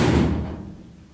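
A door pushed shut on a television set, one solid thud at the start that rings out and decays over about a second, close by and fairly loud with no talk over it.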